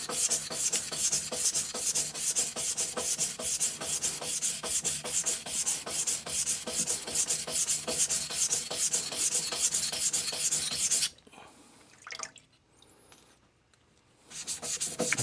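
Steel plane or chisel blade bevel being flattened on a vitrified sintered diamond whetstone, steady rhythmic rasping strokes close up for about eleven seconds, then a brief quiet pause before the rubbing resumes.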